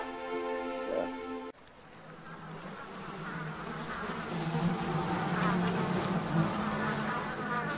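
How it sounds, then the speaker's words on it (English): A swarm of flies buzzing near a toxic salt lake in a prehistoric setting, a dense, steady drone that swells louder over several seconds after a brief opening tone. "Flies."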